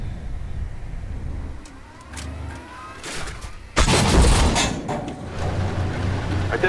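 Artillery fire in the tank game Armored Warfare with a T-64, starting with faint distant booms and an engine drone, then a loud, sudden shell impact near the end that rolls into a sustained crashing rumble.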